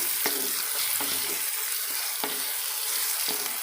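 Tomatoes sauté in a pan for an Andhra-style ridge gourd curry, giving a steady close sizzle and frying hiss with occasional stirring scrapes and clicks, no voices.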